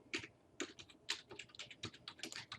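Someone types on a computer keyboard in quiet, irregular bursts of clicking keystrokes, close but faint, with no speech.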